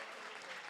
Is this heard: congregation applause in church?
yes